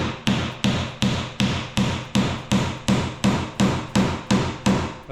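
Nails driven by hand with a hammer into timber architrave, a steady run of about fourteen evenly spaced, close, sharp blows with no talk.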